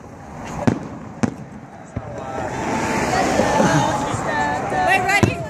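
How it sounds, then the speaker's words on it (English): Fireworks burst during a Fourth of July celebration, several sharp distant bangs scattered among crowd murmur and crackling, with a steady outdoor wash of noise between them. "Here we have some fireworks in the background."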